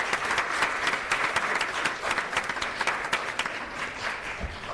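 Applause fills a school board meeting, a steady wash of many hands clapping at moderate distance that carries on throughout without any talk over it.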